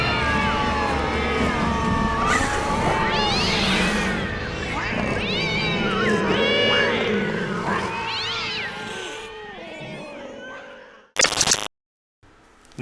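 Several cats meow and caterwaul in a loud, overlapping chorus of rising and falling wails, close and continuous, ending with a brief sharp burst before silence.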